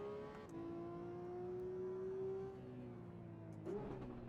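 Engine of a mid-engine sports car with a PDK gearbox lapping the Nürburgring Grand Prix circuit in Assetto Corsa EVO, a quiet sustained tone broken by quick gear changes that drop and then rise the pitch.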